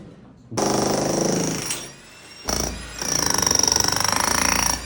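Loud heavy hammering from a large Hilti rotary hammer during demolition work, a harsh rapid mechanical rattle running in long bursts with a brief pause between them.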